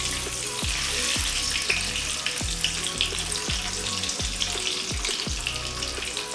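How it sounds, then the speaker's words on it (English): Eggs fry in hot oil in a pan with a loud, continuous close sizzle and crackle, while faint rhythmic knocks repeat underneath throughout, and no voice is heard. "add the eggs into it. And I am going to fry it."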